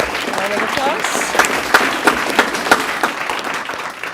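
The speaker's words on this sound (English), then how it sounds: "So, round of applause." Applause for a student president at a school board meeting, a steady crowd clapping with a few sharp individual claps standing out and some voices mixed in.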